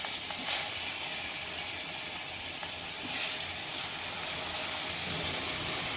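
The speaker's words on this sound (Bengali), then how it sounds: "এবারে তেলের মধ্যে আমরা নুন হলুদ মাখানো মাছটা দিয়ে দেব।" Singi fish coated in salt and turmeric fries in hot mustard oil, giving a steady close hiss with a couple of brief louder spits and no voices.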